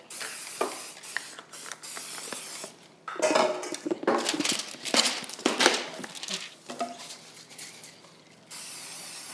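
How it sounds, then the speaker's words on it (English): Repeated hissing bursts of an aerosol cooking spray coating a baking pan, interspersed with light clinks of the metal pan, close up. "I'm spraying the bottom, the sides, and then I'm putting my parchment paper"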